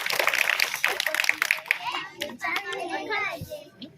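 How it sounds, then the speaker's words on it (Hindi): Applause for an MLA at a public event: a crowd clapping in a dense patter, moderately close, with children's voices and chatter mixed in. "जोरदार तालियां।"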